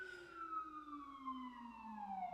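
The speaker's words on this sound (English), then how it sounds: "I'm gonna talk over the sirens" Emergency vehicle sirens pass outside, a steady wail with downward-gliding tones running continuously at moderate volume as they move by.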